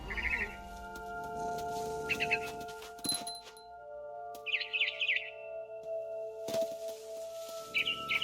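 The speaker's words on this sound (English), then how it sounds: "Then I heard chirping outside my window. It was a barn swallow going back to her nest." A barn swallow in the video game What Remains of Edith Finch gives short bursts of high chirps at intervals, set against soft wing flutters and quiet ambient game sounds.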